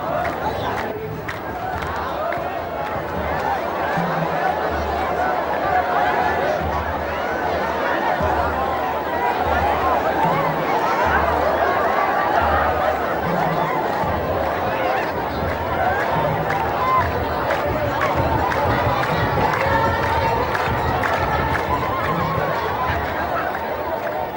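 A dense crowd at an Ethiopian religious festival procession fills the scene with continuous loud chatter, shouts and calls, steady and close for the whole stretch.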